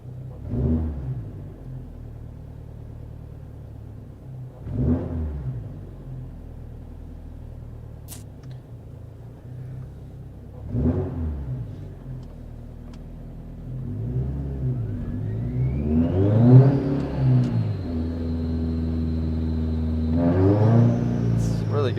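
A Subaru engine fitted with a Woolman 2.5L revs off idle in several sharp blips, each a quick rise and fall in pitch. Two longer pulls climb higher toward the end, with the engine nearby and loud.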